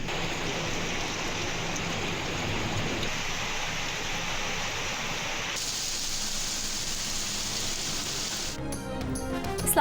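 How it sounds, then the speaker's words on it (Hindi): Heavy monsoon rain pours down in Islamabad and Punjab, a dense, steady wash of falling water that holds constant throughout, with a brief shift in texture near the end. "इस्लामाबाद और पंजाब के मुख्तलिफ शहरों में मूसलाधार बारिश"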